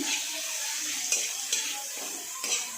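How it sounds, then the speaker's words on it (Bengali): Spices with turmeric and chili powder stir-fried in a pan, a steady faint hiss of frying broken by a few quiet scrapes of a spatula. "খুব ভালো করে মশলার উপকরণগুলো কষে নিচ্ছি"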